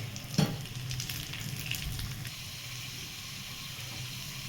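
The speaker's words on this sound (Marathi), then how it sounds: "छान असा मसाला भाजला" Masala for an eggplant curry fries in a pan with a soft, steady sizzle and hiss, a brief clink near the start, quiet and close with no talking.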